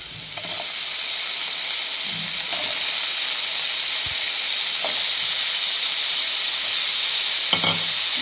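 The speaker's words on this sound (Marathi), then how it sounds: "बटाटा आपण आता फक्त फ्राय करून घेऊया" Potatoes fry in a pan with chilli garlic paste, making a loud, unbroken hissing sizzle with a few soft knocks of a spoon now and then, and no speech.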